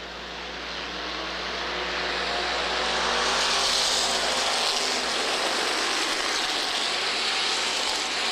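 Race cars at Minneapolis Raceway accelerate together on a green flag restart, a loud, sustained roar of engines swelling over the first seconds and holding steady as the pack passes, with no talking.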